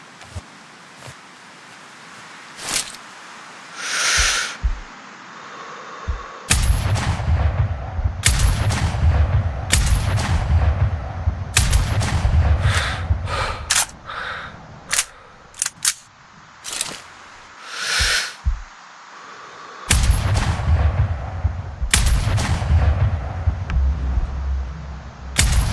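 Sniper rifle shots in the video game Sniper Ghost Warrior Contracts ring out as repeated sharp reports over a steady low rumble, with bursts of mechanical clatter between shots.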